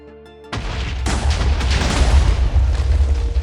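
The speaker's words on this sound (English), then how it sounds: "The explosion lasted forever." Huge chain of TNT blocks exploding in Minecraft, a sudden loud blast after a brief quiet tone, then a dense, rumbling run of overlapping booms that keeps roaring without letting up.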